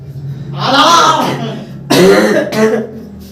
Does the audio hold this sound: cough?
yes